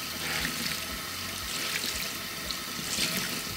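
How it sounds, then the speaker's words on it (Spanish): Makeup sponge rinsed under a running tap to wash out excess oil, a steady close rush of water splashing into a sink with no break, alone and moderately loud. "Y ahora vamos a enjuagar la esponja para quitar el exceso de aceite."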